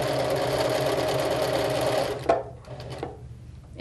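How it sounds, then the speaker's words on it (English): Sewing machine running a quarter-inch seam while piecing fabric strips, a fast steady whir for about two seconds that stops, followed by a few soft handling clicks. "And I'm gonna sew a 1/4 inch seam."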